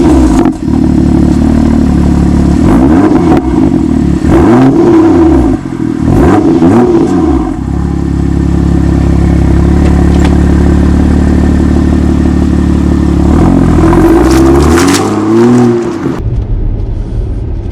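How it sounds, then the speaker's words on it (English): BMW M2 engine revving hard: a loud, close, throaty roar rising and falling in repeated sweeping revs, with one final rev near the end before the sound drops away, with no talking. "that engine note is just so gorgeous. I mean, BMW definitely got it spot on"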